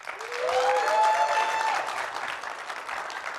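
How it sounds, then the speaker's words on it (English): Round of applause from an audience at an inspirational talk, swelling quickly into steady crowd clapping with a few whistle-like tones near the start, then thinning a little as it continues. "can we get a round of applause for the courage they showed in sharing their stories?"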